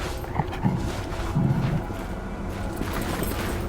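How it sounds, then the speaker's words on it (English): A dog attacks during a cutscene in The Inquisitor video game, heard as growling and snarling bursts over a dense, noisy background of scuffling and ambience, loud and close. "Let's get the dog off it."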